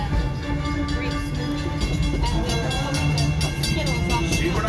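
The Walt Disney World train rumbles along steadily at close range, with rhythmic rail clatter and a continuous mechanical drone throughout.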